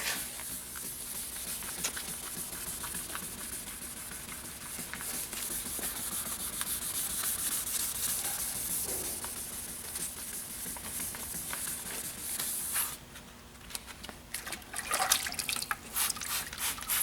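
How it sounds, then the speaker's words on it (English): A car headlight lens is wet-sanded by hand with sandpaper and soapy water, giving soft continuous wet rubbing with scattered drips and trickles, close up and fairly quiet, with no talking. "Wet our sandpaper, soap and water the lens a little bit."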